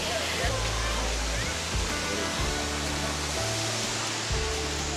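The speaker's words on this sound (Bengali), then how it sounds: "ওই দেখলেন ওদিকে ফলসটা" A waterfall at Cherrapunji, Meghalaya, sends up a steady, broad rush of falling water throughout, loud and close, with someone talking over it.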